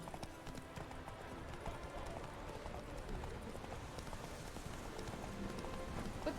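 Horse hooves clip-clop at a gallop in The Witcher 3, a steady, fairly faint rhythmic pounding that runs throughout.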